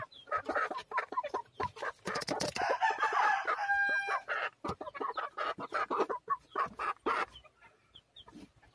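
Chickens in a backyard poultry coop, Texas-breed birds, cluck and crow repeatedly, with a rooster's cock-a-doodle-doo rising above the busy, close clucking throughout.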